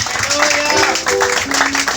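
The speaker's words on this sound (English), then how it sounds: "give a clap offering unto Jesus" Church congregation clapping as an offering of praise, a dense wash of many hands filling the sanctuary, with tonal voices or instruments threading through the crowd noise.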